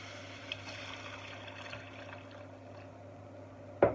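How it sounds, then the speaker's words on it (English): Vegetable stock poured from a litre container into a pan while cooking a creamy artichoke lasagna, a steady soft liquid splash running throughout, close and fairly quiet, ending with a sharp knock. "I've got a litre of vegetable stock here. I'm going to pour half of that into here."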